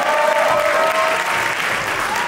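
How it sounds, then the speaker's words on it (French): Loud, dense audience applause at the Miss RDC pageant, a steady roar of many hands clapping at once with a faint crowd murmur. "Je vous laisse faire un tonnerre d'applaudissements."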